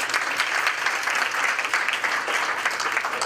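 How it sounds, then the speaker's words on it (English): Delegates at a post-election political wrap-up event applaud together in the room, a steady, even wash of clapping from a sizable crowd throughout. "So let's just ask the delegates in the room, by your applause"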